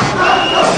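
A dense crowd at a Maurice Kamto political rally in Cameroon roars and cheers, loud and continuous for under a second, with mixed shouting voices.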